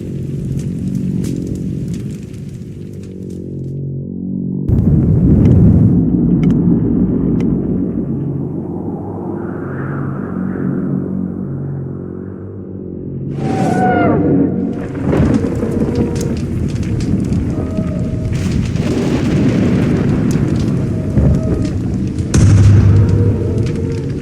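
Siege explosions pounding at a gate in Age of Mythology, loud rumbling blasts and crashes over a low droning musical bed, with a sharp impact near the middle and continuing booms after.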